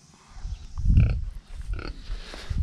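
Pigs grunting in a farm setting, a few low snorting grunts bunched around the middle, moderately close, with low rumbling noise around them and no talk.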